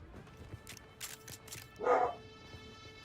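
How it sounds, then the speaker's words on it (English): Dogs in the video game Dune: Awakening bark and yip in a few sharp bursts, with one louder, closer bark standing out over a faint ambient game backdrop. "Oh, dogs are active."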